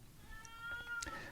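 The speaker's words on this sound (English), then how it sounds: "You might hear a cat meowing at the moment." A black cat gives a couple of short, faint meows in a quiet indoor room.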